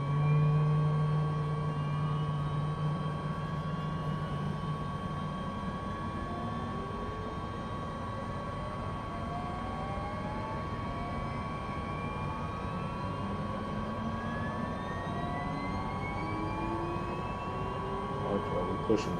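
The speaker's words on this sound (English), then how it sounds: "We hear the engines spooling up." Simulated V-22 Osprey turboprop engines spooling up in Microsoft Flight Simulator 2024: a sustained, droning whine with several rising tones that climb steadily in pitch over about twenty seconds, with constant loudness throughout.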